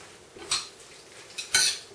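Cooked beef being mixed in a pan, with a few separate scraping clinks of a utensil against the pan at irregular intervals, fairly quiet, with no talk.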